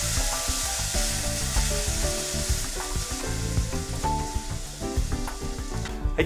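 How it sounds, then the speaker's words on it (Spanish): White rice sizzles steadily in hot oil while a utensil scrapes and stirs it around the pot, with continuous frying crackle throughout. "mientras se va friendo, hay que estarle moviendo dentro de la olla."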